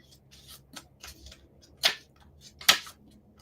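Someone flicks through a numbered deck of cards, producing a few sparse papery snaps and riffles, two of them sharper and louder, in an otherwise quiet room.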